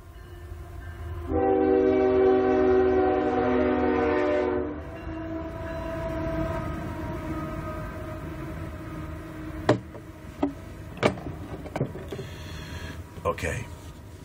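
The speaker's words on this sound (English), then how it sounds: "There's a train coming." A train passes, announced by a loud, rich multi-tone horn blast lasting a few seconds, followed by the rumbling roll of the cars with sharp clanks and knocks; people are heard talking over it.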